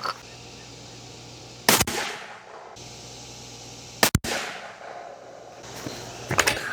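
Rifle firing Hornady Precision Hunter ELD-X ammunition outdoors: three sharp, loud shots spaced a couple of seconds apart, each followed by a short rolling echo, over steady low background noise.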